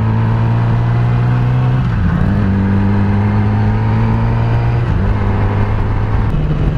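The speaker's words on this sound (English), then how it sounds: "the bike is running great now" A Yamaha R6 motorcycle engine, recently repaired, runs steadily near the microphone, holding a smooth idle with a few brief shifts in pitch as the revs dip and rise.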